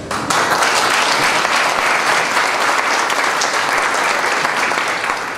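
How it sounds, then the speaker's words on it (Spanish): A crowd applauds loudly at an agreement signing ceremony between IICA and the Zacatecoluca municipal government, a dense, steady wash of clapping that holds evenly throughout. "Recibimos con un fuerte aplauso a nuestra querida viceministra de Comercio e Industria"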